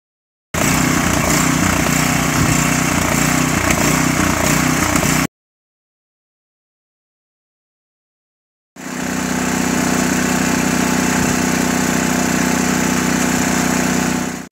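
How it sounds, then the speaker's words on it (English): A Briggs & Stratton engine with a Nikki carburetor on an Ariens snowblower runs at a loud, steady drone, cutting out for a few seconds and then restarting at an even, constant pitch. "We were able to get that Briggs & Stratton on the Ariens snowblower running good"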